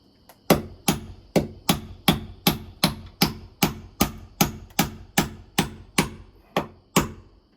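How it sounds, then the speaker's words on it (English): Hammer strikes drive nails to reattach siding at a porch post, about sixteen sharp, evenly spaced blows in a steady rhythm, close and loud with no talking. "Just nailing it back in as best as I can without wrecking anything."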